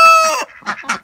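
Chickens and a rooster in a backyard coop with a broody hen: a sustained, strongly pitched call opens, then two short clucking bursts follow close by, loud and without talk.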